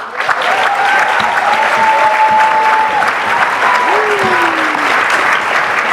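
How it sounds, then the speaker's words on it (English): Strong, dense applause for a hip hop and politics panel fills the room, loud and sustained, with voices and cheers mixed into the clapping. "round of applause for our panel."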